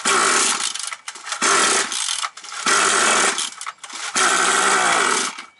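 A 5800 chainsaw with an intermittent running fault roars in four loud, buzzing bursts, each revving hard for about a second before cutting back to a brief lull.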